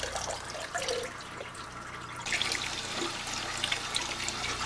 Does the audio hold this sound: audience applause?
no